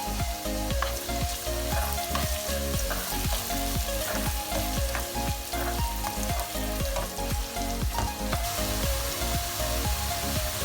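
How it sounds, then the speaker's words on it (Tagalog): Burong isda, fermented fish rice, sautéed in hot oil sizzles loudly and continuously, with a rapid rhythm of stirring scrapes and clinks close up, alone without speech. "Tignan natin itong igisa."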